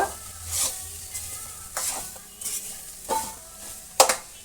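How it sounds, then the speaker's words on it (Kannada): Masala for a bottle gourd sambar fries in a pan, a faint low sizzle broken by four or five distinct stirring scrapes at roughly even intervals, with a sharper clink of the spoon near the end and no talking. "ಒಳ್ಳೆ ಘಮ ಬರುತ್ತೆ ಅಷ್ಟರ ತನಕ ನಾವು ಫ್ರೈ ಮಾಡ್ತಾ ಇರಬೇಕು"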